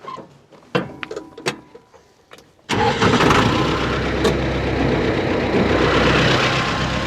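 A T-40AM tractor engine cranks with a few sharp clicks and sputters, then catches and settles into a loud, steady close-up running rumble.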